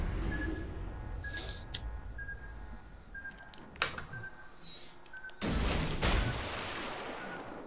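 Warship guns firing in World of Warships Legends, a few separate booming shots over a low engine and sea rumble, then a loud, sustained burst of heavy gunfire near the end.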